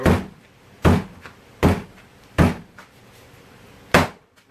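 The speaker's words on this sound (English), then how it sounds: "slamming it to get all the air pockets out of it." Several heavy, dull thuds as a lump of pottery clay is slammed down onto a surface to drive out air pockets, five separate impacts spaced about a second apart, close and loud with a brief spoken word at the end.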